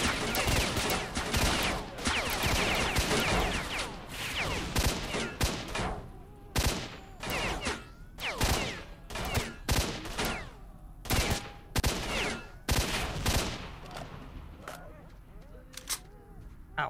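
Heavy gunfire in S.T.A.L.K.E.R. Shadow of Chernobyl: rapid bursts of loud automatic shots at first, then single and paired cracks at irregular intervals, with someone speaking between them.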